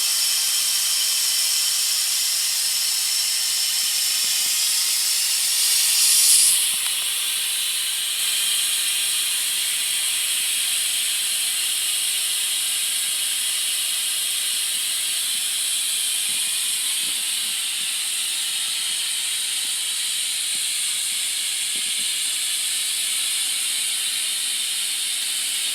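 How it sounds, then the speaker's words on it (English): Steam hisses steadily from a pressure cooker's release lever, held open as pressure vents, a loud continuous broadband rush with a small flutter partway through and no talk. "I'm going to hold this lever here until the pressure is completely neutralized."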